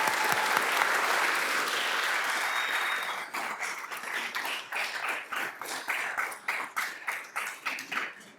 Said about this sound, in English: Please join me in a round of applause for tonight's recipients.